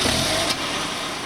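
A Honda S2000's VTEC engine fires up at the push of a start button and settles into idle, a short loud burst of engine noise that steadies into an even hum.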